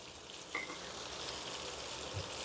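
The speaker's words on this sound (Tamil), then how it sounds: "எல்லாம் கொஞ்சம் வதங்கட்டுது." Onions and yellow, red and green capsicum sautéing in a pan give a steady, soft frying sizzle, fairly quiet and continuous throughout, with a faint brief clink near the start.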